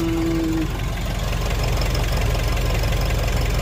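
A Nissan NV350 Premium van engine runs after a turbo actuator repair, a steady, loud, rhythmic idle with a fine knocking pulse, close to the engine. A brief tone is heard at the start.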